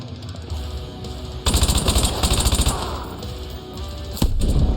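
Assault rifle fire in Call of Duty: Modern Warfare 2, loud rapid automatic bursts at close range, with a brief pause before another burst near the end.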